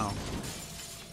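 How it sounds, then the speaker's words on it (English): Glass shatters as an enemy leaps up through a pane in Halo: Combat Evolved, a brief, bright crash that quickly trails off into faint rattling debris. "Man jumped up through the glass"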